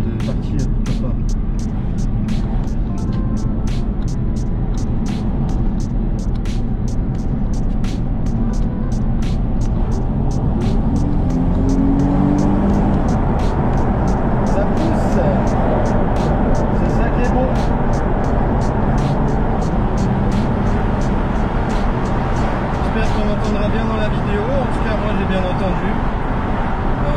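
Steady, loud drone of an Infiniti G35's naturally aspirated V6 on its stock exhaust, with road noise beneath it and a person talking over the sound throughout.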